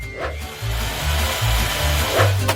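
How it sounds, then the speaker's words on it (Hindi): Power drill running in bursts at close range, its motor whine rising and falling as it is switched on and off, with some rubbing noise between runs and no talking. "मैं यहाँ सब ड्रिल करूँगी।"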